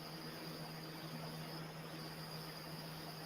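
Crickets chirping outdoors at night, a faint steady high trill with a constant low hum beneath, calm and continuous with no talking.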